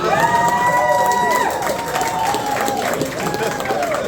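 A town hall audience breaks into lively applause and cheering, a dense burst that stays loud and then eases slightly, with voices mixed in.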